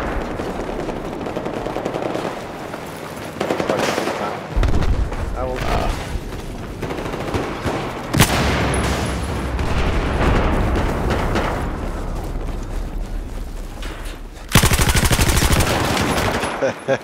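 Battlefield 4 gameplay fills the clip with loud, dense gunfire: rapid automatic bursts, single shots and booming explosions. A player's voice talks over the shooting.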